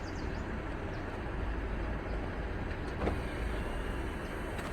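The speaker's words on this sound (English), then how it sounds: "Yeah, a train is coming." A train approaches in a river gorge near a large bridge, a steady broad rumble that swells slightly and holds throughout, with faint rattling on top and no talking.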